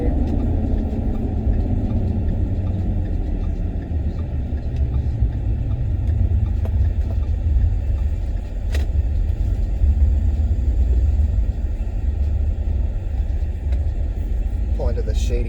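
A 2010 Ford F-150 Harley-Davidson pickup rolls into a parking lot, heard from inside the cab as a steady low engine and road rumble that continues throughout with little change.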